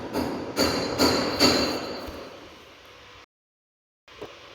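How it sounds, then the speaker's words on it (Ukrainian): Hammers pounding nearby, several sharp, loud strikes in an uneven rhythm over a background hum, then a short silence and one fainter knock. "Починають гамселити тут у мене молотками"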